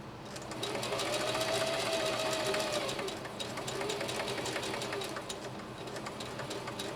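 A Singer Heavy-Duty 4423 sewing machine runs steadily, stitching through two layers of cotton with quilt batting, a close, continuous mechanical whir with rapid needle clatter that holds an even rhythm for several seconds.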